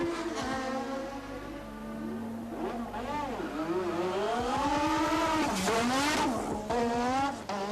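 A 1987 Formula 1 race car rejoining the race after a pit stop: a high, screaming engine note climbing through gear changes as the car accelerates past, loud and close, with a second engine tone overlapping.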